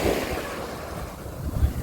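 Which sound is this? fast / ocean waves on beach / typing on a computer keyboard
ocean waves on beach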